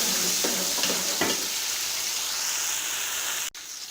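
Chicken pulao masala with tomatoes and sliced green chillies sizzles in a pan as it is stirred, with a few scraping strokes early on over a steady hiss and a sharp clunk near the end.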